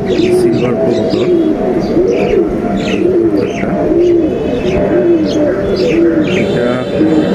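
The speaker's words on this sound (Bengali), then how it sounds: "শেয়ার করব আমার বাড়ির সিলভার কবুতর।" A silver pigeon coos in a steady, repeating rhythm, close and loud, with several coo phrases in a row and faint chirps from other birds behind it.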